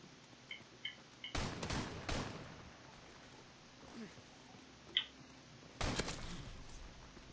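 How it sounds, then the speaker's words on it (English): A slow-firing gun in a Gun Game match of Call of Duty: Modern Warfare Remastered. A few sharp, widely spaced shots crack out with long pauses between them over a quiet in-game background. "Gun has really slow rate of fire."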